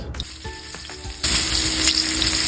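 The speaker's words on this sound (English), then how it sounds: "gonna give it some time to get brown, to fry up" Oil sizzles and crackles steadily as chicken shallow-fries in vegetable oil, jumping louder partway through as pieces go into the pan, with no talking.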